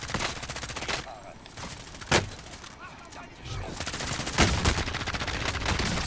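Rapid gunfire crackles through a Call of Duty Warzone match, dense bursts of automatic shots with a few louder single cracks, set over continuous game noise.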